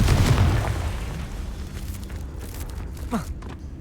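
A Confringo blasting spell explodes in the Hogwarts Legacy video game, a loud low boom at the start that rumbles and decays, followed by a brief whooshing zip near the end.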